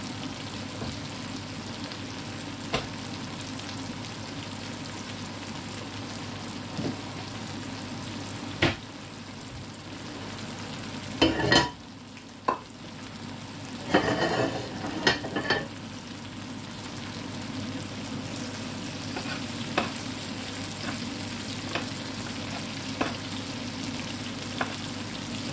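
Okra and cumin seeds frying in desi ghee, a steady close sizzle and crackle throughout, with a few spoon-stirring scrapes and clatters around the middle.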